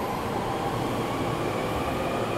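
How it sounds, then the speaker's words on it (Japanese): A Tokaido Line local commuter train rumbles steadily nearby as it pulls away from Shinagawa Station, Tokyo, a continuous rolling roar of wheels on track with no voices. "今乗ってきた列車ちょうど出ていくところですね。"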